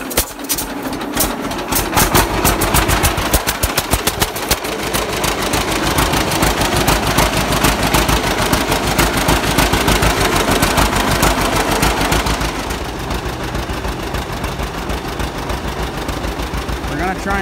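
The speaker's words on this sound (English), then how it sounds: "Try and pull this stump using the John Deere A." The engine of a John Deere A tractor chugs loudly and steadily nearby while it tries to pull a stump, its rapid two-cylinder popping continuing throughout and easing slightly near the end.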